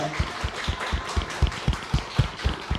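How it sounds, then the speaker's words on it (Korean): A standing church congregation claps to welcome a visiting missionary, producing a steady, fairly regular rhythm of claps at moderate loudness. "박수로 환영하겠습니다"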